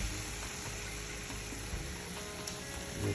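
Pork chops frying in olive oil in a pan give a steady, close sizzle and crackle that runs without a break, with no talking over it.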